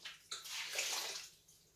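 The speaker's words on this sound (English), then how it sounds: "she's washing her clothes in the kitchen sink" Clothes are washed by hand in a kitchen sink of hot water heated on a stove, with soft splashing and sloshing swells that rise and fade, faint and close, with no talk.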